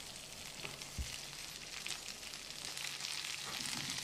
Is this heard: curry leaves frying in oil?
yes